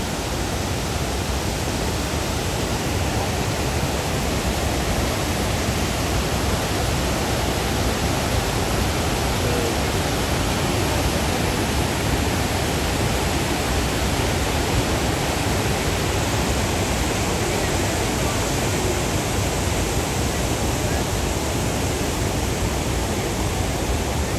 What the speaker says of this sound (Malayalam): പാറയുടെ മുകളിൽ കൂടെയൊക്കെ ഇങ്ങനെ വെള്ളം ഇങ്ങനെ